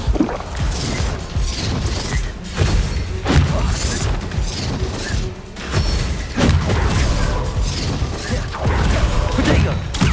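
Confringo spell blasts in the video game Hogwarts Legacy, a rapid string of loud booming explosions and crashes with brief gaps between bursts.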